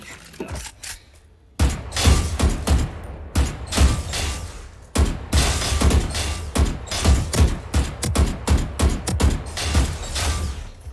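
Gunfire in the video game Valorant, rapid bursts of loud close shots in quick rhythmic volleys with thuds and breaking impacts, nearly continuous after a brief quieter opening, with no talk.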